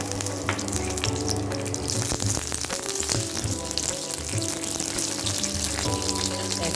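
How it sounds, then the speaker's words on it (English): Curry leaves and mustard seeds sizzle and spatter loudly in hot oil for a South Indian masala potato dish, a steady dense frying hiss with scattered pops throughout. "Now we add curry leaves to it."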